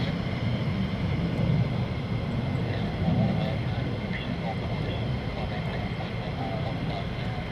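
F-15 fighter jets taxiing at RAF Lakenheath, a steady, broad engine rumble and whine holding throughout at moderate distance with no sharp changes.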